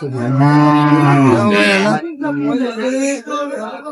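A dairy cow with her calf at Aftabganj cattle market gives a loud, close, drawn-out moo, followed by a shorter second lowing call.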